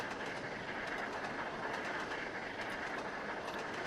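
Steam locomotive in the Trainz: A New Era simulator, Settle and Carlisle route, accelerating downhill: a steady, dense rumble of rolling train noise with faint rhythmic clatter, continuous and fairly quiet throughout, no voices.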